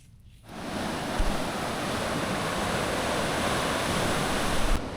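Ocean surf breaks off the coast of Hawaii, a loud continuous wash of crashing water with wind buffeting the microphone and no voices.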